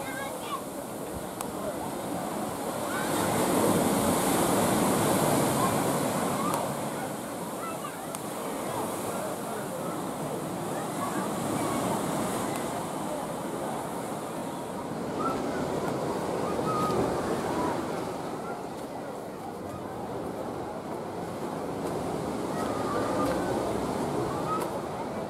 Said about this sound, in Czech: Slušně tady dole to moře bouří.